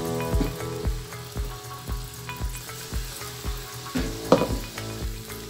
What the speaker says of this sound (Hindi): ऑयल अब गर्म हो चुका है। इस तरह से मिर्च हम इसमें डालेंगे ऑयल में।